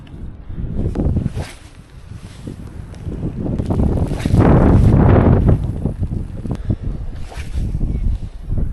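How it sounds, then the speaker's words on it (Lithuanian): Wind gusting over a lake while fishing, rough buffeting roars that rise and fall against the microphone, strongest in the middle, with no voices. "Vėjas tai vieną, tai kitą pusę."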